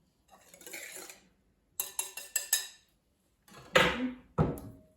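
Clinking and scraping of a spoon against a bowl in short bursts while mixing dough of eggs, yolks creamed with sugar and melted fat, with a few sharper knocks of metal on the dish; no talking.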